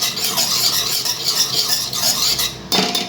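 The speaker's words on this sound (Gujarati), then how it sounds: "હવે મિક્સ કરી દઈશું આપણે." A spoon scrapes and clinks steadily against a pan while white sauce pasta seasoned with nutmeg is mixed, a close, continuous stirring with a louder knock near the end and no talking.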